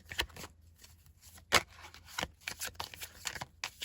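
Tarot cards are shuffled by hand in quick riffling bursts and soft flicks, close and fairly quiet, with no talking.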